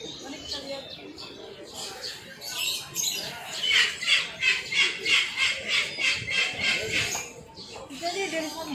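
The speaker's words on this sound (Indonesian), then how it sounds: "Sekarang kita ada di Pasar Burung." Caged birds at the Yuen Po bird market in Mong Kok, Hong Kong, chirp and squawk in a rapid rhythmic run of calls, with speech and crowd murmur around them.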